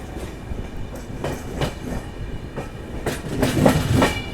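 An AP Express passenger train running on the line between Nagpur and Delhi, heard from a coach in the middle of the train hauled by a WAP-7 locomotive: a steady rolling rumble with rhythmic clickety-clack wheel beats that swell louder near the end.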